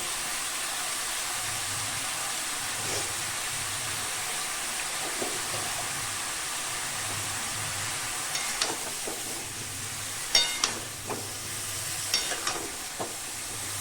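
Jackfruit seasoned with turmeric and salt fries in oil over a high gas flame, a steady loud hiss and sizzle throughout, with clinks and scrapes of stirring near the end.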